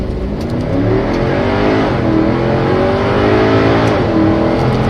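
Mercedes CLK63 AMG V8 in sport mode revving hard under acceleration, a loud continuous engine roar climbing through the rev range with brief dips at gear changes, close and steady without talk.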